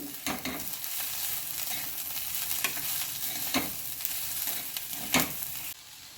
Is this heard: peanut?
yes